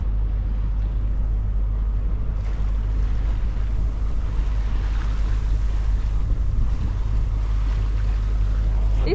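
A small fishing boat motors across the Seto Inland Sea in Japan, its engine a steady low drone running the whole time alongside wind buffeting the microphone and water washing past the hull.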